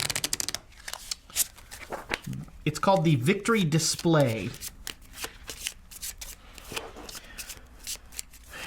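Arkham Horror card game deck being shuffled by hand, a few seconds of crisp riffling and bridging over a table while people talk across the table before and after.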